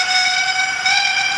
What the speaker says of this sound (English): And let's hear a whistle.